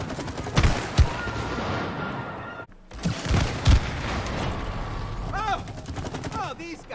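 Bursts of gunfire ring out while shooting in It Takes Two, sharp repeated cracks in clusters with a few heavier booms and voices talking over the action.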